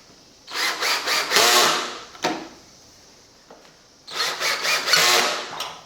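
A power drill drives the last two screws into a wooden linen cabinet and clothes hamper frame, in two strong, sustained whirring bursts separated by a quiet gap with a brief knock, fairly close.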